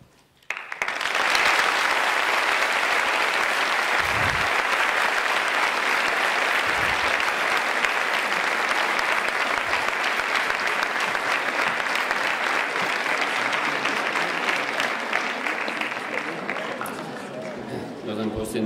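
Sustained loud applause from a large crowd at a pleading competition final, steady clapping that fills the room and holds for many seconds before tapering slightly at the end.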